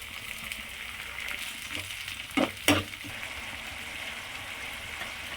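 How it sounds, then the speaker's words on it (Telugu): Long-sliced green chillies fry in oil with a continuous bright sizzle until light golden. A couple of sharp utensil knocks land near the middle. "పొడుగ్గా కట్ చేసుకున్న పచ్చిమిరపకాయ ముక్కలు ఈ లైట్ గోల్డ్ కలర్ వచ్చేలా ఫ్రై చేసుకుందాం"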